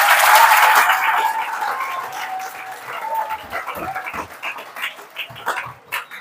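Students at a motivational lecture applaud their teacher for Science Day. The clapping bursts loud at first, then fades to scattered, uneven claps that trail off.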